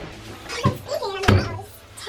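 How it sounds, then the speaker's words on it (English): A door closes nearby with a short thump about midway through, plus a softer bump just before it, in a quiet indoor room. "close the door."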